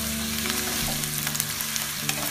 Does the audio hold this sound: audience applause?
no